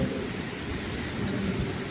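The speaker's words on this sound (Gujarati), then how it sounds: "સમગ્ર ખેડા જિલ્લા નડિયાદની અંદર મેઘરાજાની ગાજવીજ સાથે એન્ટ્રી શરૂ થઈ ગઈ।" A monsoon thunderstorm over Nadiad in Kheda district, India, at night: a continuous wash of rain with a low rolling thunder rumble underneath, steady and without voices.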